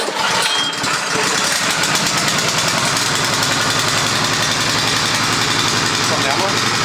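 The petrol engine of a combination sweeper and snow blower with brush and snow thrower runs loud and close, a steady rapid mechanical chatter holding constant from start to finish with a voice speaking over it.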